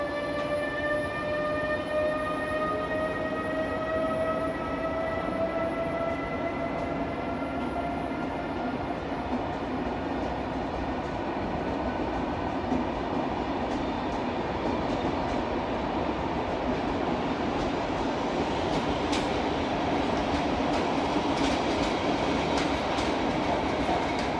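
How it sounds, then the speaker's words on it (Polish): Intercity Pomorzanin passenger train hauled by an EU07 electric locomotive pulling out of Wrocław Główny station, with rising motor whine tones, steady rolling rumble and clicking wheels over rail joints, heard continuously at moderate distance. "Intercity Pomorzanin dzisiaj ciągnie ta oto siódemka. I rusza."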